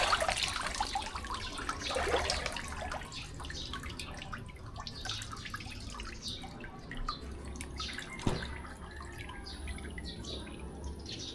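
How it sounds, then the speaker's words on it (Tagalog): Cold water from an outdoor hand pump splashes and drips continuously, a close watery patter with scattered droplets and one sharper knock, heard alone without talk. "Malamig yung tubig galing sa poso."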